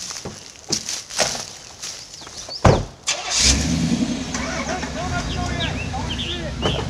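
An off-road truck stuck in mud fires up with a sputter and then settles into a steady engine rumble as it begins to move, while people talk and shout nearby.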